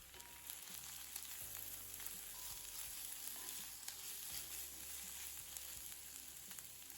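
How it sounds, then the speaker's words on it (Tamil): Steady frying sizzle of chopped carrot and capsicum sautéing in a pan for poori masala, a continuous crackling hiss with occasional clinks and stirring noises, close and moderately loud. "பொடியாக நறுக்கின 1 கேரட், 1 கேப்சிகம் சேர்த்து நல்லா வதக்கிடலாம்"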